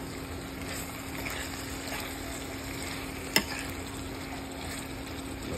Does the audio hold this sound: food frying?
yes